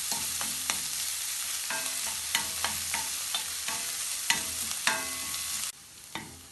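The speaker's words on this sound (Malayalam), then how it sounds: "ഇതിനി കുറച്ച് സമയം ഇളക്കി വഴറ്റാം." Onion, ginger and garlic sauté in oil while a spoon stirs them around the pan, giving repeated sharp scraping strokes over a continuous soft sizzle, close and with no talking.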